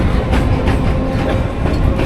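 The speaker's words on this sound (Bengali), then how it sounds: "ফাইনালি ট্রেন কিন্তু আমাদের ছেড়ে দিয়েছে।" A departing local train rattles along the tracks, a loud, close, rumbling clatter with rhythmic clickety-clack beats from the wheels over rail joints, heard alone without talk.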